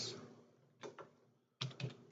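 Several quick keystrokes on a computer keyboard while entering a shortcut in Blender, in two short clusters separated by brief pauses, close and fairly quiet with no talking.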